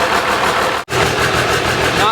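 A 12-valve Cummins diesel engine idles steadily with a continuous rumble, a brief gap partway through, and talk heard over the running engine.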